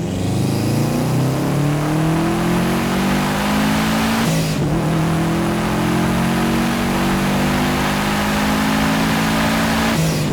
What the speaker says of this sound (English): God, and the turbo noises.